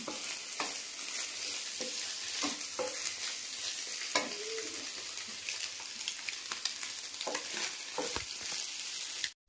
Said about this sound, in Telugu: ఎగ్ ఫ్రై అవుతుందండి